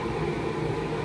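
Steady ventilation system running during a homebrew session while wort comes to a boil, a continuous broadband whoosh with low rumble, no speech.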